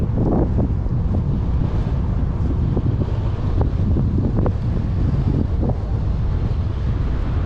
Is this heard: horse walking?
no